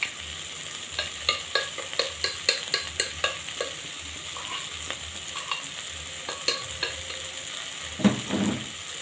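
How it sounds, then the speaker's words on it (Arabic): Vegetables with garlic, onion, pepper and chicken broth sizzle in a pan over low heat, with a regular series of stirring scrapes and taps for several seconds and a louder clatter near the end. "هنسيبه على نار هاديه كده يستووا مع بعض"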